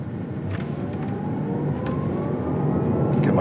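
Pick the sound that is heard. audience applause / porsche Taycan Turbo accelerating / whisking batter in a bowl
porsche Taycan Turbo accelerating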